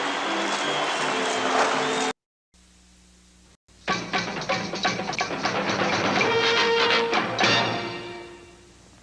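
A hockey crowd at a rink in Peterborough applauds and cheers as a team comes onto the ice, a dense wash of clapping that briefly cuts out, then swells back and fades toward the end.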